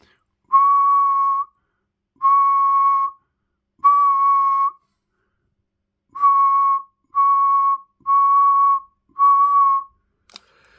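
Seven steady whistled tones, each about a second long, come in a loose sequence with short pauses, whistled into a Major M588 CB radio microphone, sounding slightly thin and transmitted.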